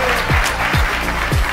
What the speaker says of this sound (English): Let's give him a massive clap for